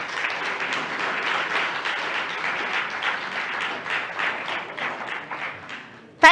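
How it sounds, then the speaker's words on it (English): Audience applause for Sonrise Senior High School after winning a school quiz contest, steady crowd clapping that holds throughout and tapers slightly at the end. "Oh, I applaud them well."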